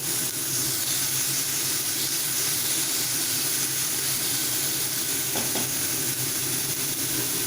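Chopped onion with a little salt frying in a pan, giving a loud, steady sizzle and hiss that runs unbroken throughout, with faint stirring scrapes on top.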